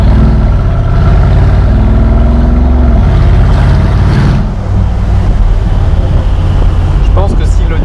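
A Mansory G6x6 off-roader's engine roars loud and close, a heavy rumbling drone that swells and shifts as it accelerates, with a rougher burst in the middle and a voice faintly audible beneath.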